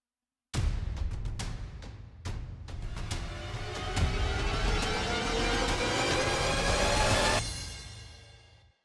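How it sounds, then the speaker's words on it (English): A dense, swelling cinematic riser from the Tommee Profitt percussion plugin builds steadily for several seconds with scattered hits at the start, then cuts off and fades into a brief tail. "I can use this riser here."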